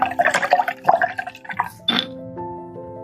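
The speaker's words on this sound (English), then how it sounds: "Now I'll rinse my brush" A paintbrush swished and rinsed in water during oil painting: short, close splashy dabs and drips for about two seconds, then a quieter tail with a faint tonal hum.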